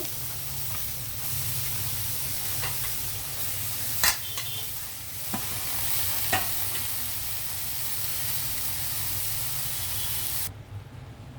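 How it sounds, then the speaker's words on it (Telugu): Amaranth leaves tossed into softened tomatoes in a hot pan, giving a continuous sizzle with several sharp scrapes and clinks of stirring, close and steady until it suddenly cuts off near the end. "టమాటా మగ్గింది కదా నేను తోటకూర వేసేస్తున్నాను"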